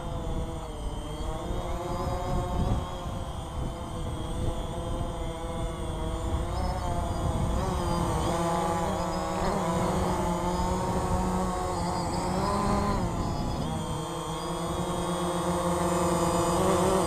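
A small quadcopter drone lifts off from a box and flies nearby, its propellers giving a steady, loud, multi-toned buzzing whine that shifts pitch slightly as it manoeuvres, with no talking.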